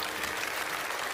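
A studio audience claps steadily to welcome a guest onto a television lecture stage, a dense, even wash of applause throughout the short moment.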